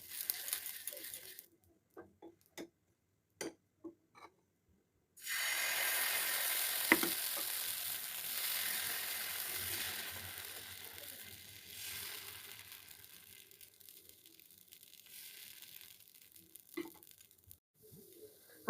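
Patishapta crepe batter sizzles in hot oil swirled around a pan, starting with a few sharp taps and clinks, then a loud, steady frying hiss that fades slowly over many seconds before more light clatter returns.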